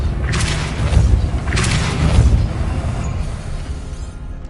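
Depulso spell being cast in Hogwarts Legacy on PS5, two heavy booming magical bursts about a second apart, followed by a lingering low rumble with no talking.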